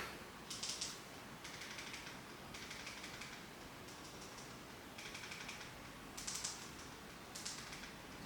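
Quiet clicking of keys on a computer keyboard while a search is typed, coming in several short bursts of rapid taps separated by pauses, close but faint, with no voices.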